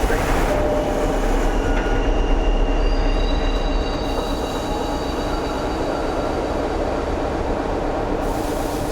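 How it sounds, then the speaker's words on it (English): A subway train pulls into the station with a loud, steady rail rumble and high wheel squeals, heard close on the platform. "Here comes my train."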